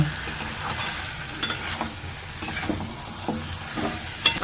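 Chicken with pepper powder, garam masala and chicken masala being stirred in a frying pan, spatula scrapes and clinks recurring irregularly over a low sizzle, close and fairly loud, with no talking.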